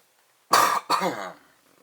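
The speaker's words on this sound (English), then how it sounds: "Apologies on the cough." Two quick, harsh coughs close to the microphone, the second trailing off into a throaty rasp, followed by quiet.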